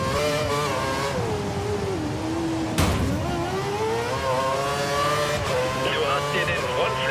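A Lotus Formula 1 car in F1 2013 at Monaco screams at full revs, its engine pitch rising and falling through gear changes with a sharp thump midway, loud and steady throughout while a voice speaks over it.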